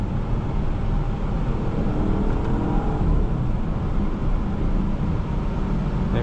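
A 2012 Porsche Cayenne Turbo engine pulls hard under acceleration, a loud, steady low rumble and road roar from inside the cabin with no break across the run.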